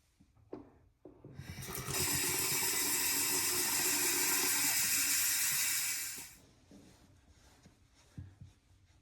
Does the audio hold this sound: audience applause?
no